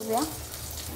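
Dried red chilies, chopped ginger, garlic, green chilies and curry leaves sizzle in hot oil for a dal tadka, a steady close crackle with a brief stir near the start.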